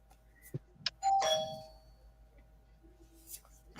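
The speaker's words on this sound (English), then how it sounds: "My doorbell rang." A doorbell rings indoors at night, a couple of bright chime tones ringing out over a quiet room with low background hum, followed by faint talk.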